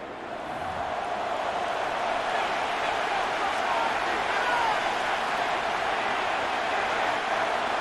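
A stadium crowd in the Madden NFL 26 video game, 49ers against Browns, roars just before a third-and-goal play: a dense, steady wash of cheering and hubbub that holds at an even loudness throughout.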